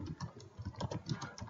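Quick, light keystrokes tapped on a computer keyboard in an irregular burst, close and soft with no talking.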